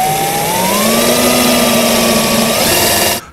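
A power drill runs steadily at high speed while boring a pilot hole into wooden drawer sides, a loud continuous whine with a slight pitch rise before it abruptly stops.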